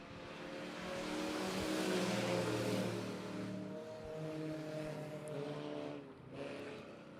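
Race cars at Monett Motor Speedway, a dirt oval, roar past on the restart as engines drone steadily, loud and sustained with shifting pitch, fading briefly near the end.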